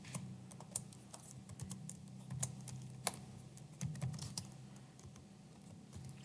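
Steady typing on a computer keyboard while entering text into MS Access, irregular quiet key clicks with a few sharper taps over a low background hum, fairly faint and close.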